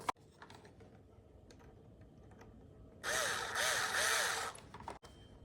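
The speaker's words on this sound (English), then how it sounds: "it looks like it's gonna take 3 of those silver screws back here to screw this in" Small silver screws are driven into an Injora Jeep Cherokee body on a Traxxas TRX-4M Bronco RC crawler, heard as one loud, close whirring burst of about a second and a half, with faint clicks and handling noises around it.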